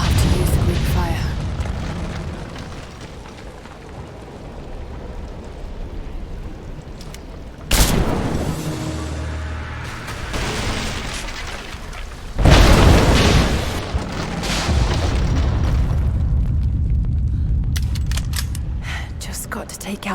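Greek fire explosions blowing out unstable statue supports in Rise of the Tomb Raider: two heavy, booming blasts several seconds apart, each followed by a long rumbling roar of debris, loud and near, with speech in between.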